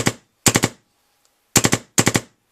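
A DLX Luxe 2.0 paintball marker fires four quick bursts of three or four sharp, loud shots each, separated by short silences.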